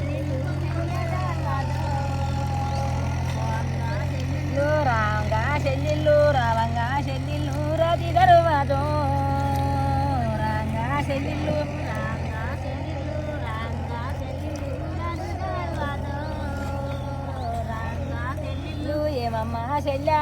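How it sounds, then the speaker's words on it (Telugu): A tractor engine running in a paddy field, a steady low drone beneath people speaking and singing nearby. "ఇలా ట్రాక్టర్ సౌండ్ వస్తుంది"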